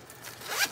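A zipper on a pencil case for Luminance colored pencils is pulled open in one short, close zip that rises in loudness and ends with a brief bright rasp.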